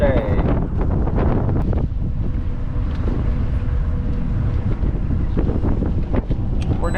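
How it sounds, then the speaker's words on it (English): Steady broadband wind roar buffets the microphone on a bicycle tour along a highway near Bald Eagle Lake, riding into a light headwind; the rush is constant and loud throughout, with a voice talking over it. "By that flag that we have a little headwind, and we'll have a headwind all day."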